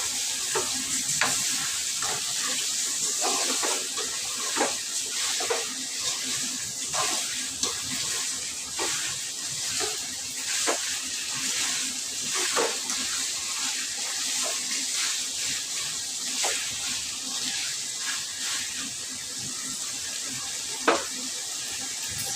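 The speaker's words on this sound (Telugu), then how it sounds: "చికెన్ వేసేసిన ఒక్కసారి కలిపేస్తా" Chicken for curry sizzles in a hot pan while it is stirred, making a continuous close frying hiss broken by scraping strokes of a spoon at an irregular rhythm, with no talk.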